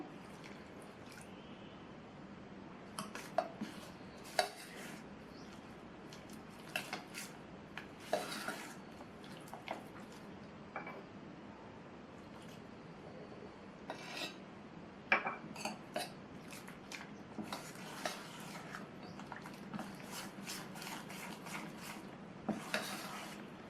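Milk is worked little by little into rice appam batter in a bowl, giving soft wet squishing and scattered clinks of a spoon against the bowl. It is close and fairly quiet, with no voices.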